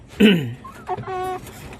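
A sick chicken in a coop gives a short, rough cluck followed by a few softer, fainter calls, with low background noise and no one talking.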